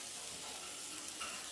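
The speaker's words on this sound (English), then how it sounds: "I'm gonna throw some garlic in now, and that will do." Garlic sizzles loudly in a hot wok with a bit of salt, a dense continuous crackle of frying filling the short moment with no voices.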